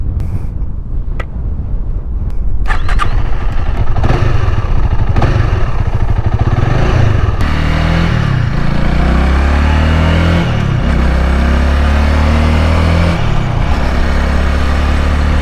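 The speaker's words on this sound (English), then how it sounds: "let's go ahead and jump on the bike, take a cruise around some neighborhoods" A Honda Rebel 300 motorcycle rumbling along while cruising through neighborhood streets, the engine note rising and settling with gear changes and wind buffeting, loud and close throughout.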